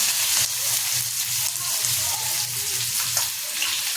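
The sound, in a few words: chopped onion frying in oil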